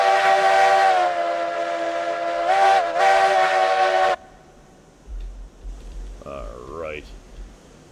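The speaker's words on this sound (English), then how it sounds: "Give it one last hoot on the whistle there." A steam locomotive whistle in the railroad game RailRoads Online blows one long, loud, steady hoot with a brief dip near the end, cutting off abruptly; a voice speaks afterward over low rumbling.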